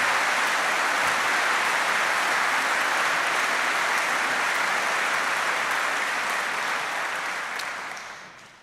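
Dense, steady applause from an early music festival concert audience fills the clip, a continuous wash of clapping that fades out near the end.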